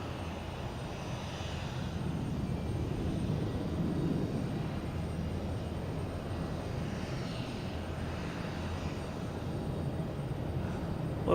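A fixed-wing airliner arriving from Beijing at Boston Logan Airport rumbles steadily with a broad low engine roar at moderate distance, holding an even level throughout.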